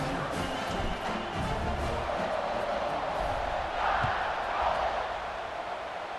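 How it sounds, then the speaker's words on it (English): Stadium crowd in the EA Sports College Football 26 video game buzzes after a score, a steady dense roar of cheering that swells briefly midway and holds at a constant level throughout. "this crowd is buzzing after that last score"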